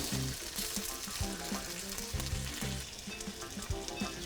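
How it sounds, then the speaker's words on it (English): Bacon fries in a pan with a steady, dense sizzle and crackle that runs throughout, broken by irregular pops and spatters, close and fairly loud with no voices. "head back into the kitchen, flip that bacon"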